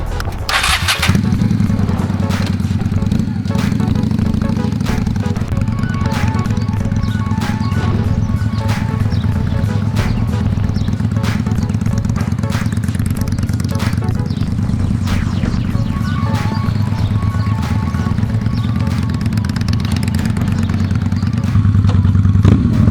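A motorcycle engine runs steadily and loud at close range during a skills test, idling and revving while the rider weaves serpentines around cones, with a faint clatter and no talk.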